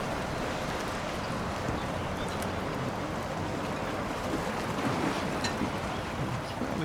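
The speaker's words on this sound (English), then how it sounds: "you can see the waves crashing on the beach" Waves crashing on a distant beach beside a marina at Puerto Portals, Mallorca, heard as a steady, broad wash of surf with light wind, continuous and fairly faint, with no talking.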